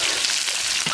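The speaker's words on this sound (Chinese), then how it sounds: "锅里重倒点油，" Garlic cloves hiss and crackle as they drop into freshly added hot oil in a wok, a steady dense sizzle filling the whole moment, loud and close with no voices.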